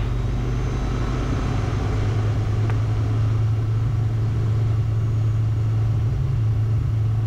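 A steady, low engine drone from an aircraft run-up in a flight simulator game, continuous and even with a faint brief click partway through and no voices.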